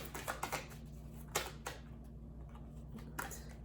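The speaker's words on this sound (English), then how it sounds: "A lot of cards, yeah, keep shuffling." Quiet, close clicks and flicks of cards being handled, scattered taps with a faint steady hum underneath and no talking.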